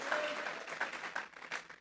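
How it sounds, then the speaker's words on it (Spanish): A church congregation applauding as an offering to God during a sermon, a short burst of fairly soft, rhythmic group clapping from across the room. "vamos a regalarle ofrenda de palmas al Dios de la gloria."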